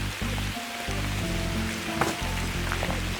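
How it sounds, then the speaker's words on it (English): Heavy rain pours outdoors as a steady, dense hiss with a low rumble underneath, and no one speaks. "Look at this rain. It's pouring raining again."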